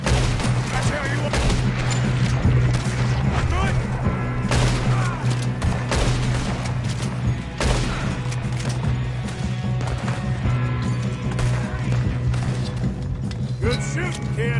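Gunfire in the video game Red Dead Redemption 2, dense overlapping shots cracking over a steady droning game soundtrack, loud and continuous throughout with horse hooves and voices mixed in.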